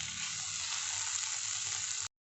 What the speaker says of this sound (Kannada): ಅದನ್ನು ನಾನು ಹಾಕಿ ಮಿಕ್ಸ್ ಮಾಡ್ತಾಯಿದ್ದೀನಿ.